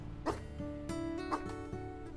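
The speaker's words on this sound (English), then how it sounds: "Just aggressively barking." Wolf pups barking in the WolfQuest video game, a few soft yips and barks over a low, steady background bed of game sound, faint and fairly distant, with no talk.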